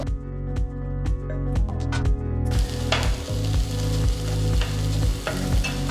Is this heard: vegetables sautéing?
yes